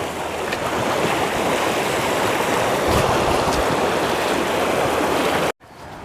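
Someone wades through a busy, high-running river while checking mole traps; constant loud water rush with faint splashing, then a sudden brief cut before the flow resumes.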